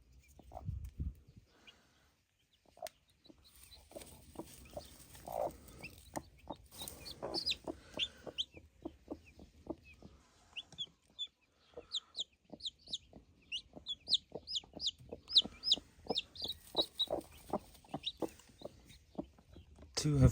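Newly hatched chicks give high, thin peeping chirps in quick repeated series, close by and moderately loud, over low rustling and tapping, with a person talking quietly at times.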